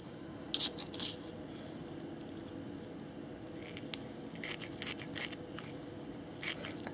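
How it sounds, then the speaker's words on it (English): Scissors snipping through fusible webbing at a craft table, a few quiet crisp cuts clustered near the start and again in the second half, close but faint against a soft room hiss. "I'm just going to cut a little bit of the fusible webbing just to make it fit a little bit better."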